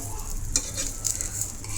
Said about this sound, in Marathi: यामध्ये मी डोस्यावरती तेल टाकून घेते